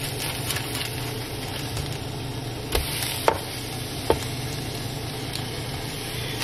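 Salmon fillets, one with skin on, fry in a pan with a steady hiss, while a few sharp knocks of a utensil mark them being flipped.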